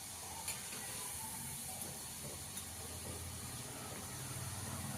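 Bhajani chakali fries in hot oil, a steady, even bubbling hiss that runs the whole time at moderate level with no talk over it.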